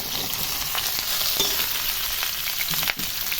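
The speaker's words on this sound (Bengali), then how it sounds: "সবগুলোকে সুন্দর নাড়িয়ে চাড়িয়ে হালকা ভেজে নেব।" Pumpkin, papaya, sweet potato, carrot and drumstick stir-frying lightly in a pan give a steady, close sizzle with soft stirring scrapes throughout, and no one speaks.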